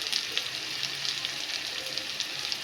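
Vegetables frying with chopped ginger, garlic and green chili in a pan, a steady close hiss of sizzling oil with small crackles throughout, no voices.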